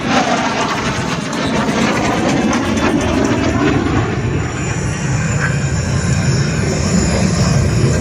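A fifth-generation fighter jet roars past inverted at 400 knots during the Wings over Illawarra air show, a loud, continuous, dense engine rush lasting the whole stretch without easing.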